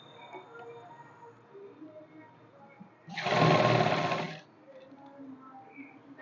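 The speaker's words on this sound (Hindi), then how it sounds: "तो इस कट तक लगावांगे सीधी सिलाई" A sewing machine stitches a straight seam on a salwar belt in one close, steady whirring burst of about a second and a half, with quiet room sound and faint handling before and after.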